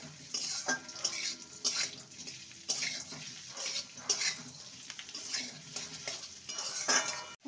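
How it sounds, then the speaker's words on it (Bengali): Jujubes being fried and stirred in a pan for pickle, with repeated clinks and scrapes of a utensil against cookware spread through the clip and a soft sizzle underneath, close and moderately loud. "কুলটাকে দু মিনিটের মতো ভেজে নেবো"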